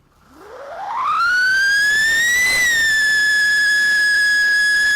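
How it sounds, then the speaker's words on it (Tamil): Whistling firecracker going off, a shrill whistle that sweeps quickly upward in pitch, then holds a loud steady piercing tone for several seconds, close and alone. "கண்ட்ரைட்டர் விசில் ஊங்குற மாதிரியே வெடிக்குதுப்பா"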